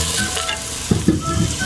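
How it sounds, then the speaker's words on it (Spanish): Onion sizzling in a pan for chicken tinga, a steady close frying crackle with a few soft stirring knocks of a utensil partway through; no one speaks. "Vamos a agregar también la cebollita para que se sofría."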